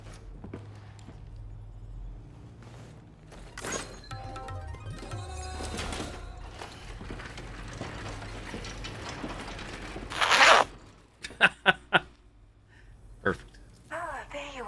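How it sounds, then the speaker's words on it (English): A long zipper unzips in a video game, evoking a tent door, as ratcheting mechanical clicks under game music and effects, ending in a few sharp bursts. "When I hear Zipper lasting that long, I think of a tent door getting unzipped."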